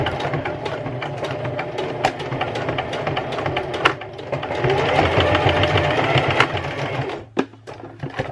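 A sewing machine runs steadily, stitching repeatedly over a seam on a Longchamp bag with slightly rubbery, tacky material, with a dense continuous whir and brief pauses near the end.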